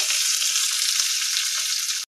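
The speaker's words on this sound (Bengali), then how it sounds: "পেঁয়াজগুলো একটু লাল লাল করে ভাজা হলে তারপরে শাকগুলো দিয়ে দেবো" Onions frying in a pan give a loud, continuous hiss and crackle close up, steady throughout and then cutting off abruptly at the end, with no talking.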